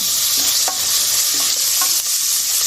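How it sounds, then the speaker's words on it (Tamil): Onions sautéing in a pan while Chana is being cooked give a steady, close sizzle and frying hiss, with a few scraping stirs of a spoon breaking through at intervals. "இப்போ வெங்காயம் வதங்கி வருது"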